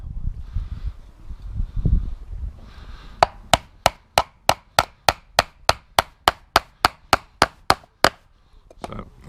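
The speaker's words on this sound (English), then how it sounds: "we're going to just nail this together with 4 nails" Hammer blows driving four nails into wood for a backyard campfire build, a steady run of about nineteen sharp, evenly spaced strikes close by after some handling noise, with one last knock at the end.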